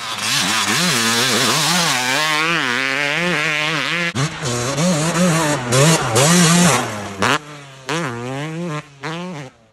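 A Yamaha YZ250 two-stroke dirt bike ridden hard around a track: a loud, close engine that rises and falls in pitch through repeated revs and shifts, with sharp throttle blips and brief cuts near the end.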